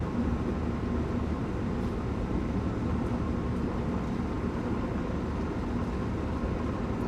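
An Amtrak Northeast Regional train running in Train Sim World 2, heard from the cab as a constant low rumble and drone that stays loud and even throughout.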